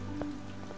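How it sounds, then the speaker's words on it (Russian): Rain falling in the video game Mask of Mists, a soft, steady patter under a low ambient hum, with no voices. "мы с вами запустили дождик, так сказать"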